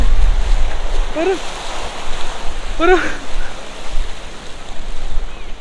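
Sea waves wash loudly onto Bheemili Beach in Visakhapatnam with gusty wind buffeting the microphone, while brief voices call out over the surf.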